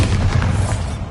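A Bombarda explosion spell from Hogwarts Legacy makes a short, heavy burst, loud and close, blending into the surrounding game noise.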